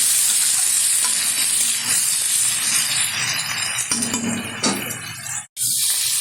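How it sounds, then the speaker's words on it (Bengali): Tomato, boiled potato and young jackfruit fry in hot oil while being stirred, a loud, continuous sizzle with scraping stirs, cutting out briefly near the end before resuming. "ভালোভাবে একটু নেড়ে চেড়ে নেবো তেলের সাথে।"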